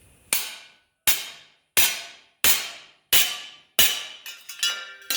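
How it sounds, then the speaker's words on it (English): A ball peen hammer is struck on its other end against metal, six sharp ringing blows at a steady pace, then a quicker cluster of lighter taps, close and clear with no talk. "I'm going to hit the other end of the hammer."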